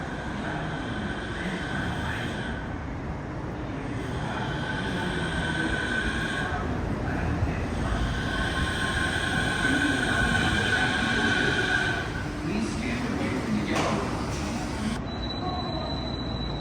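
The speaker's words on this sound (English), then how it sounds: "The Chiba Urban Monorail is a suspended monorail, meaning that the train swings freely in the sky." A Chiba Urban suspended monorail train rolls along with a steady rumble and swelling metallic whine, with squealing wheel tones and faint chimes near the end.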